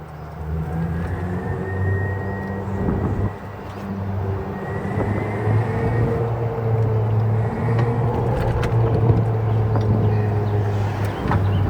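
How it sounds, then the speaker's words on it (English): Electric motor of a Vibe Flex LSV golf cart whining while driving at speed, a steady rising and falling tonal whir over road rumble, loud and close with no talking. "I love that motor whine. It sounds so cool."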